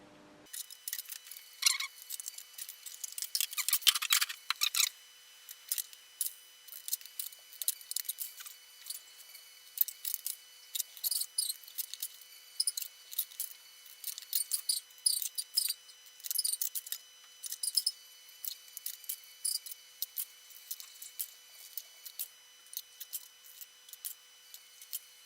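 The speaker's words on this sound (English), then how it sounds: "now we get the scissors and we're going to just cut these down" Scissors snipping hull tile pieces to size for a model ship, a long run of short, dry clicks and snips in irregular bursts, close and fairly quiet with no talking.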